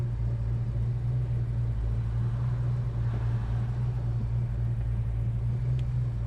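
A 1964 Plymouth Sport Fury with a 426 Wedge V8 idles in traffic, a steady close low rumble that holds evenly throughout with no talking.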